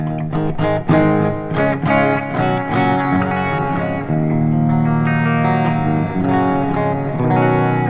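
An electric guitar through the clean channel of an EVH 5150III 100-watt amp head, with a booster engaged, rings out loud chords and single notes with a spacious reverb tail, playing alone.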